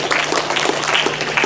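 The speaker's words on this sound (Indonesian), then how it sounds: "Luar biasa ya, tepuk tangan buat beliau." A seminar audience on a university campus claps loudly in a dense, continuous burst of many hands, brief and close.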